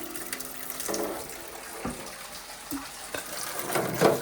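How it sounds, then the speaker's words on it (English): Hot soapy water runs into a kitchen sink in a steady, moderate wash, broken by a few light clinks and knocks nearby. "So I'm going to run some fresh hot soapy water"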